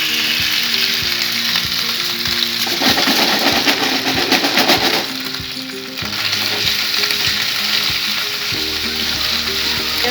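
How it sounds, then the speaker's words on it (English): Beef frying over full heat in a hot pan for a Chinese-style stir-fry with rice noodles, a loud, dense, continuous sizzle that dips briefly before resuming, close and without voices. "We are just going to fry it"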